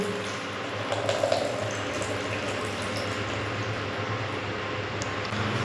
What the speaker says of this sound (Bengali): কাজু কিশমিশের জলটা ফেলে দিয়ে সম্পূর্ণটা দিয়ে দেবো